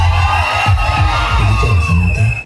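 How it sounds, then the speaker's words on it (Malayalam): An energetic student crowd cheers and whoops loudly inside the Puthettu Cinemas theatre in Pala, a dense, continuous roar of shouts and yells filling the whole moment. "ഇവരെല്ലാ സ്റ്റുഡൻസും ഭയങ്കര എനർജറ്റിക് ക്രൗഡ്"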